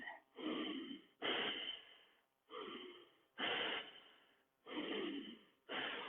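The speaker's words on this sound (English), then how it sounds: "So let's really hear the breath." Heavy rhythmic breathing while holding a forearm plank during a yoga flow: loud, close, alternating inhales and exhales in six broad bursts, with no talking.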